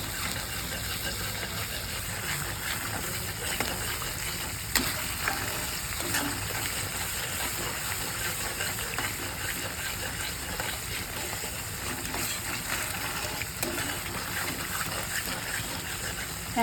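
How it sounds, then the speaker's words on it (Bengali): Spice paste with tomato sizzles and is stirred in hot oil for a vegetarian chhana kalia, a steady close frying hiss with faint scraping throughout. "এবার এটা তেল ছাড়া অবধি কষা হবে"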